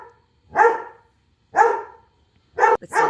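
A dog barks outdoors at turkeys, three sharp barks spaced about a second apart with the last one doubled, fairly close and with silence between.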